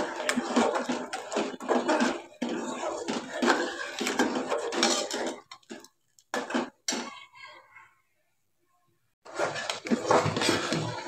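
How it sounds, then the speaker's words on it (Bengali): Thick halua mixture being stirred hard in a pan, repeated scraping and knocking of a spoon against the pan in bursts, with a short pause of silence before the stirring resumes. "বেশি করে নাড়াচাড়া করতে হবে"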